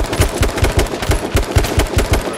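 Rapid automatic gunfire in the video game H1Z1, a steady rattling burst of about a dozen loud, close shots with no pauses.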